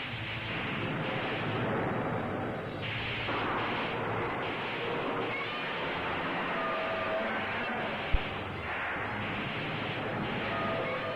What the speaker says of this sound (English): the most powerful, the newest, the most devastating of weapons blast into action in their effort to destroy all monsters